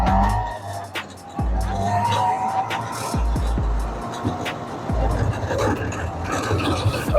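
A 1973 Suzuki LJ50 jeep is driven with its small engine rumbling loud and close, its revs rising and falling, mixed with rough tire and gravel noise.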